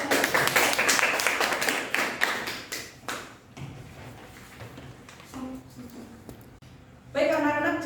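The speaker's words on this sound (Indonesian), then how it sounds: "Oke, betul sekali. Tepuk tangan." Students in a classroom clap rhythmically for a few seconds with voices mixed in, then the clapping fades as talking takes over.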